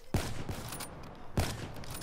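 Sniper rifle shots in Call of Duty: Black Ops III, two sharp, loud cracks about a second and a quarter apart, each with a short ringing tail, fairly close and clear.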